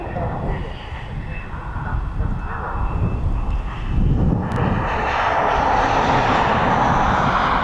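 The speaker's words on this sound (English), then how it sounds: "Little Piper Cherokee Archer, private owner." A Piper Cherokee Archer light aircraft, privately owned, drones steadily at an airport, its propeller engine a continuous rumbling hum that swells slightly midway, with a voice talking over it.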